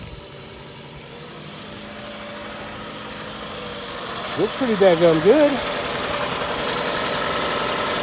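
A car's engine idles steadily at a local auction with a misfire and its check engine light on, running a continuous low rumble throughout while someone speaks briefly partway through.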